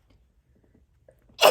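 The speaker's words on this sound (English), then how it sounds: "Oh, excuse me, I'm going to sneeze." A single sharp sneeze bursts out at the very end, loud and close, after near silence broken only by faint small handling sounds while someone sits doing embroidery.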